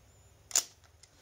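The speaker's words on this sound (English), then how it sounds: "one of the things that I most enjoy in this camera is really the noise that it makes when it shuts" One sharp shutter release from a FED 4 Russian 35mm rangefinder camera, a crisp close mechanical snap with a short ringing tail, followed by a couple of faint small clicks.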